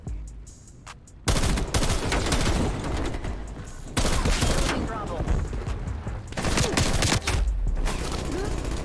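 Rapid AUG burst-rifle fire in a Call of Duty Cold War match, loud and close: a quiet lead-in, then several stretches of dense, rattling gunshots with echoing impacts, the bursts nearly continuous with brief gaps between them.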